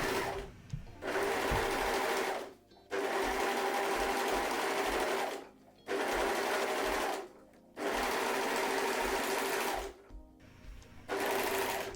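A sewing machine stitches a pleated fabric rectangle onto a flat rectangle, running in four steady bursts of rapid whirring separated by short pauses.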